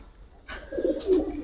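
A red jira pigeon coos in a few low, throaty pulses close by, starting after a brief quiet moment and rising slightly toward the end, with no talking.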